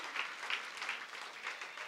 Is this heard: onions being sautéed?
no